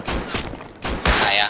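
Gunfire in the survival game Rust, a few sharp loud shots in quick succession with a voice talking briefly between them.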